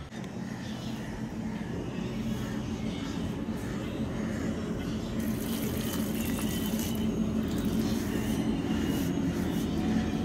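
Leftover rice-washing water from a bowl is poured onto the dry soil of thirsty plants, making a steady, fairly loud rushing splash that runs continuously for several seconds.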